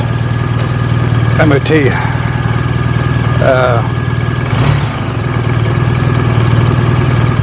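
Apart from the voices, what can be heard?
BMW R1250RT motorcycle engine idling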